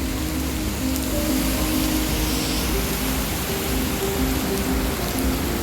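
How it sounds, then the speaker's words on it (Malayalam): Steady rain pours down in San Fernando, Trinidad and Tobago, a dense, even hiss, with a faint engine drone running underneath throughout. "മഴ തോരുന്നത് നോക്കി ഞങ്ങളിങ്ങനെ നിൽക്കുകയാണ്"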